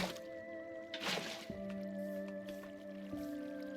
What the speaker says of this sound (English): what does the water do if I put it like that?